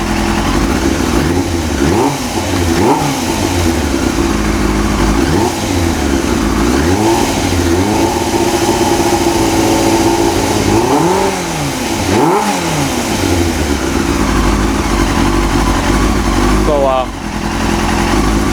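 A 2000 Yamaha YZF R6 motorcycle engine runs loud and close, its revs repeatedly rising and falling in swelling blips over a steady rough idle, throttled up and down again and again.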